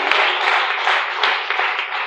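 A church congregation claps during a worship sermon, a thick, continuous patter of many hands with sharper individual claps popping out now and then.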